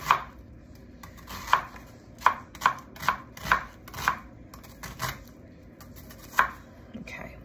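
A knife chops half an onion into slices on a board for fresh tomato salsa, giving about nine sharp, separate thuds in an uneven rhythm, close and fairly loud.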